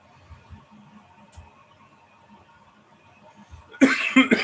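A person coughs a few times, abrupt harsh bursts near the end after a quiet stretch of faint room noise and soft knocks.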